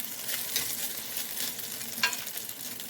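Salmon cakes fry in a pan on an electric stove set to medium, giving a steady close sizzle and crackle with a few sharper spits.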